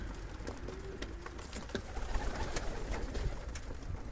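Pigeons cooing at a crowded pigeon market in Zgierz, soft repeated coos close by over a steady murmur of market noise and scattered knocks.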